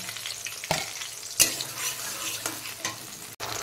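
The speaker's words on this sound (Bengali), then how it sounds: "আদা বাটা দেওয়ার পর খানিকক্ষণ নাড়াচাড়া করে নিয়েছি" Tomatoes with ginger paste are stirred in a sizzling pan for a cauliflower curry made without onion or garlic. Soft frying crackle runs under a few distinct scrapes and knocks of a spoon against the pan, close by and without talk.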